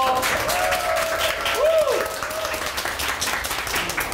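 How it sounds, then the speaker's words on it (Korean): A studio audience at a Korean television comedy show breaks into steady, full applause that carries evenly throughout, with a voice briefly audible over the clapping. "박수 주세요."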